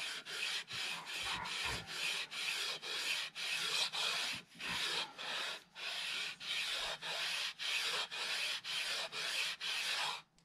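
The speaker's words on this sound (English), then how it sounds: "I'm just going back and forth, trying to keep it even. Just letting the sandpaper do the work." Sandpaper rubs back and forth along the neck of a cheap guitar: a loud, steady rasping swish in regular strokes, roughly two per second, with no voices.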